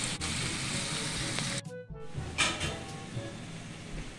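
Bacon frying in a pan for breakfast: a steady, close sizzle that cuts out for a moment, then resumes at a similar level.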